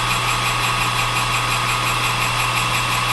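Metal lathe in a home workshop running steadily, a constant motor hum with a low drone and whining tones, even and unbroken for a few seconds, no cutting or talk.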